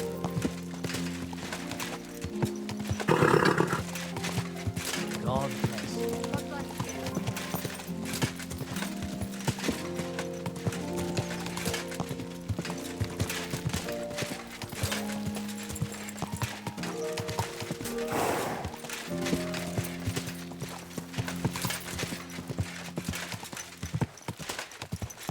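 Horse hooves clip-clop steadily through a Kingdom Come 2 game scene, with a whinny rising clearly once early on and again later, all set over a continuous musical score with no talk.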